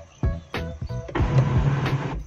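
A Kia Seltos HTK+ IMT sunroof motor runs for about two seconds as the panel slides shut, a steady mechanical whir after a few short clicks and thumps from the switch, close and fairly quiet.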